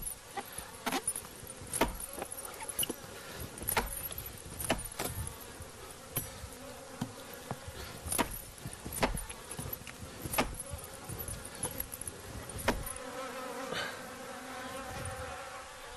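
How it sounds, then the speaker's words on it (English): Bees buzz around steadily as a Maasai honey gatherer calms them with smoke, with sharp taps and knocks scattered throughout and a faint background hum. "Smoke is used to confuse the bees and slow them down"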